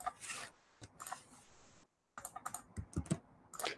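Someone types a registration ID on a computer keyboard: quiet, close key taps in short irregular bursts, with a brief silent pause midway.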